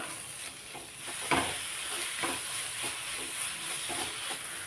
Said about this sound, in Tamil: ஒரு முறை நல்லா கலந்து விட்டுக்கலாம்